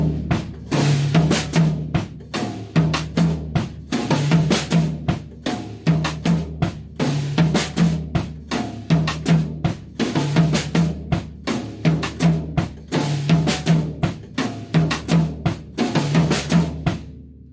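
Full drum kit playing a Ghana groove with four-way independence, left foot, right foot and both hands all active, at a brisk tempo; steady repeating strokes and cymbal hits fill the whole stretch, close and loud, with no talk.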